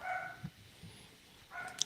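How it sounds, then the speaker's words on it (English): A pet dog at home lets out a few quiet barks and yips, faint and somewhat distant, with short gaps between them and no talking. "That's our dog."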